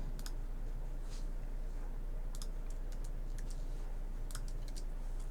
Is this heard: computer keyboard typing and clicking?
yes